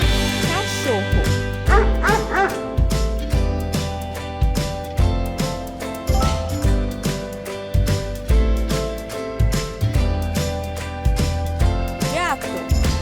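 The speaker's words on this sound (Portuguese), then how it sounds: "cachorro" A dog barks repeatedly in short yips over steady background music, the barks loud and close in an animal-sounds game.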